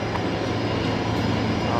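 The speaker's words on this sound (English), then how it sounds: "it looks like Singapore's coming in on the new parallel runway on the other side" Singapore Airlines airliner landing on the new parallel runway at Brisbane Airport, a steady, continuous broadband jet roar with a low engine hum, distant and unbroken throughout.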